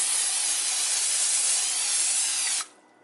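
Cooking spray hissing from an aerosol can onto marshmallows laid in a cooking pan, one continuous bright spray lasting over two seconds before cutting off abruptly, close and alone.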